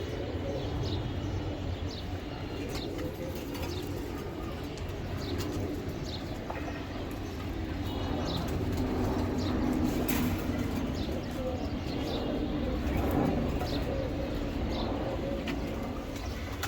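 Racer pigeons coo in a low, continuous murmur amid a noisy room, with scattered chirps and occasional light taps over a dense background hum.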